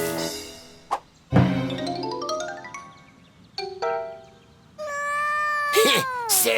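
A cartoon cat yowls while being chased from a yard, long sliding meows and caterwauls rising and falling, loud and close, broken by splashes and bright chiming effects.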